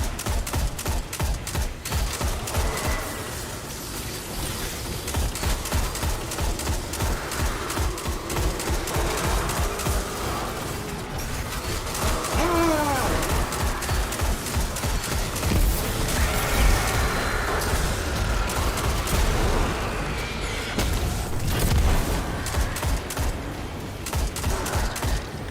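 Sustained gunfire in Destiny 2, a dense rapid rattle of shots rolling on without pause for the full stretch, loud and close, with no speech over it.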